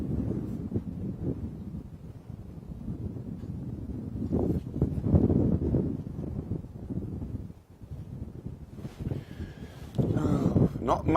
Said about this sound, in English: I'm sure you can hear it on the top mic. It's gusting wind.